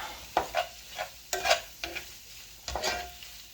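Spaghetti stirred in a hot pan on a stove, a series of scraping, clacking stirs over a soft sizzle, close and irregular.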